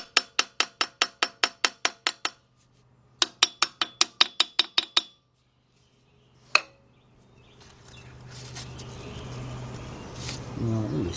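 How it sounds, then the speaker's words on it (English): A small hammer taps stuck caps loose on a 1977 Buick LeSabre 350 engine during a gasket overhaul, in two rapid runs of bright metallic clinks, then one sharp strike followed by rising rustling workshop noise. "So what I like to do is get me a little hammer and just tap them."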